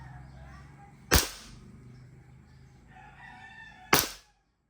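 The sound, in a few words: shot from Army Armament R501 gas airsoft pistol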